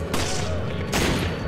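Automatic machine gun fire in the Resident Evil 5 video game, two sharp loud bursts of rapid shots with a roaring tail between them, no voices.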